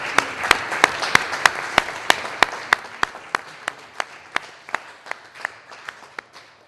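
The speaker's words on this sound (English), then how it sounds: "give Jerry a good round of applause here" A crowd applauds steadily at a press launch in a cathedral, with sharp, regular clap peaks standing out over a dense wash of hands, gradually fading toward the end.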